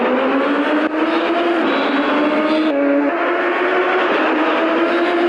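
Race car engine in a racing video game screaming steadily through a lap, pitch dipping and rising with gear changes and corners at Surtees, loud and continuous with no talk.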